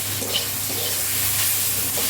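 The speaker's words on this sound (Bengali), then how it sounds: "কি সুন্দর আমার শাক ভাজা করা হয়ে গেছে" Greens fry in a pan on an induction cooker, giving a steady soft sizzle with faint stirring scrapes, close and continuous, with no voices.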